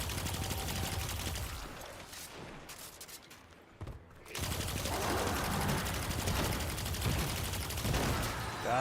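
Bursts of Cabal enemy gunfire from a distance in Destiny 2, with rapid rattling volleys, a brief lull, then sustained heavy firing over the game's background.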